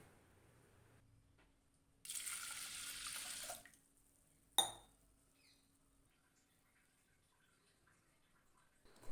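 Tap water runs for about two seconds while mung dal is washed in a pressure cooker, followed by a sharp clink of metal and then quiet.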